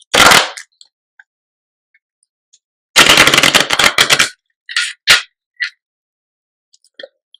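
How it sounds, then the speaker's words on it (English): A deck of cards is shuffled and riffled close by in quick, crisp bursts of flapping and clicking, separated by silent gaps, with no voices over it. "Let me shuffle."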